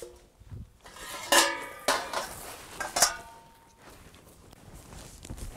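Pots and dishes clatter as they are handled, with three or four sharp metallic clanks and knocks rising over a quiet room, close by, with no talk.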